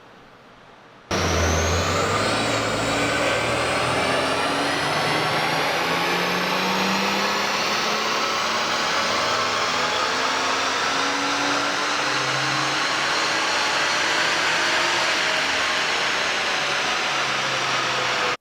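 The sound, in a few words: BMW 335i engine revving during a dyno run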